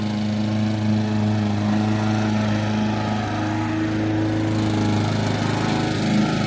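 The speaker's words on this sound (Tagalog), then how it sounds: "Grass cutter pa siya." A lawn mower cutting grass drones loudly and steadily at close range, its engine holding one even pitch throughout with no pauses or talking.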